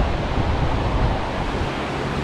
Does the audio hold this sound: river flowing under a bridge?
yes